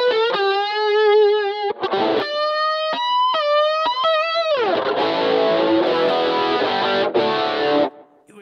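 Electric guitar run through Rockman-style tones on a Line 6 HX Stomp, playing sustained distorted lead notes with bends and a chorused shimmer, then a thick crunchy chord passage, loud and close with no talking.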